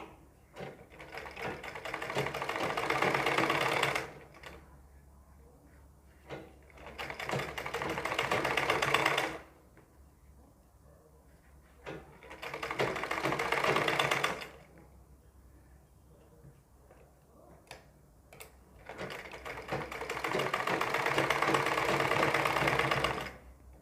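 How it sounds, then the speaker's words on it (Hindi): Sewing machine stitching along a seam of a ladies' suit sleeve, running in four long bursts of steady rapid whirring separated by short pauses, fairly close and with no talk. "मशीन चलाएंगे। जो हमारी ये सिलाई है, इस सिलाई को दबाते हुए ताकि ये ढक जाए।"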